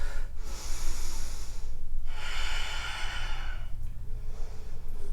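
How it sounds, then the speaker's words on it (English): Deep, slow breaths during a vinyasa yoga flow, heard close up as long airy inhales and exhales in a repeating rhythm over a low steady background hum, with no talking. "2 more deep breaths"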